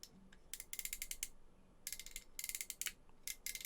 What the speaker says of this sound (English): there's actually like a spring ratchet in the arm